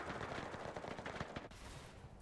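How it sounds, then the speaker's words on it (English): Gunfire from an enemy tank in a tank battle video game, a dense loud rattle of rapid shots over the first one and a half seconds, then a steady rumbling combat din. "Oh, there's an enemy tank that's shooting us."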